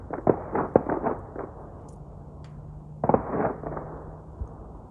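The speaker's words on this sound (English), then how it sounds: "Someone firing off some rounds over there." Distant gunshots ring out from across steep ridgeline hills near Talcott Mountain in Connecticut, a quick cluster of several sharp cracks followed by a pause and then another short burst, carried faintly over outdoor air.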